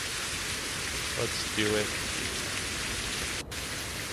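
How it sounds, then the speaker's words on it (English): Steady rain falls with a dense even hiss throughout, while a voice briefly speaks over it. "it sounds like the rain's going away, but I guess it isn't."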